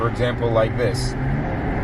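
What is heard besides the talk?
BMW B58 blow off valve venting when letting off the gas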